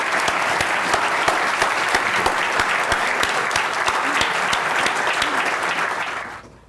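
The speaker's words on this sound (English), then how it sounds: "Please join me in giving him a round of applause" An audience at a medical technology book talk gives steady applause with distinct individual claps, sustained at even volume before tapering off sharply at the end.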